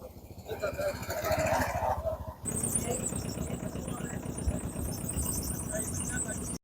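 Tractor engine running as it drives through a flooded village on the Beas river, a steady rumbling drone that continues throughout, with a voice talking over it in the opening seconds.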